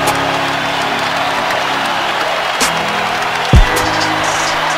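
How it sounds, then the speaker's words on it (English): A packed basketball arena crowd roars through an Ohio State versus Michigan Big Ten rivalry game, a loud, dense and steady wall of cheering that barely dips for nearly five seconds. "Listen to this crowd."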